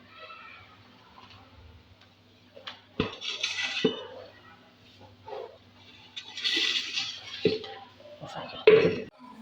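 Beaten egg and milk are poured into vermicelli with bananas and mixed, with sharp clinks of a spoon against a bowl and soft sloshing, under a voice that talks throughout.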